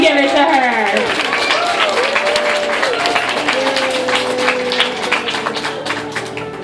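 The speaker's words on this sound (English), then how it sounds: "looks like Delilah's asking for a little bit more applause" Applause for a performing dolphin at a Florida marine show, a spread of clapping from a crowd under a presenter's amplified voice and high dolphin whistles, fairly loud and continuous.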